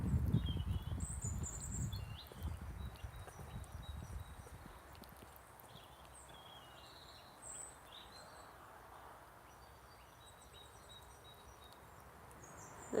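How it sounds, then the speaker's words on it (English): Faint songbirds, including robins, blackbirds and chaffinches, chirp and trill in a garden during a walk. Crunching footsteps sound close and louder at first, then fade, leaving the distant birdsong. "Robins, blackbirds, chaffinches that plague my life."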